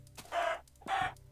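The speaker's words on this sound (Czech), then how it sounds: "Nevím, co mi tady sakra dělá slepice." A chicken in a Minecraft-style blocky game world gives two short, clear clucks close by, separated by a brief pause, with faint background hum.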